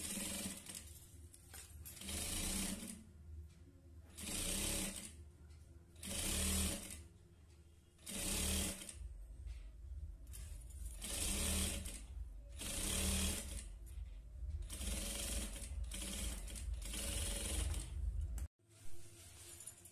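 A sewing machine stitches piping onto blouse lining in repeated short runs of fast, close mechanical chatter, separated by brief pauses.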